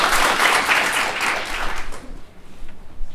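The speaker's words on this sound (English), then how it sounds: "how about a round of applause for Rania and the tremendous job she's doing" Audience applause at a youth entrepreneurship challenge event, dense crowd clapping that holds strong for two seconds then thins out into scattered claps.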